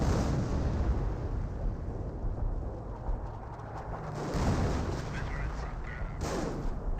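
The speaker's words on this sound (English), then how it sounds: "Got a creeping barrage in the space." A creeping artillery barrage in the World War II strategy game Company of Heroes, heard as dense, continuous rumbling explosions and booms layered over one another, loud and sustained with no clear gaps.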